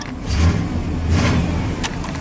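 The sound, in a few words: '96 Chevy K2500 V8 truck engine running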